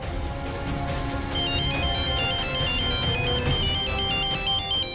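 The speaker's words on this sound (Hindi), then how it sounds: "घर से फोन आ रहा है ना" A phone ringtone plays a repeating electronic melody, clear and fairly close, continuing steadily without any voices.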